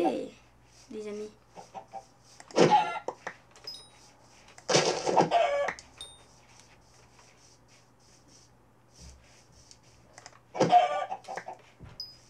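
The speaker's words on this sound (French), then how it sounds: "On est riche de poulet, les amis." Chickens clucking in the video game Minecraft, short bursts of fowl calls scattered across the clip with quiet gaps between, fairly close, with a faint low hum underneath.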